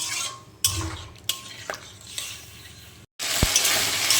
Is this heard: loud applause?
no